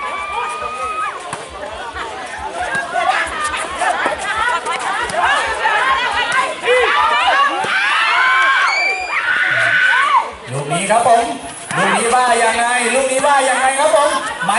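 Spectators at a women's village volleyball cup match in Thailand keep up loud, continuous cheering and shouting throughout, with a close announcer talking over the crowd.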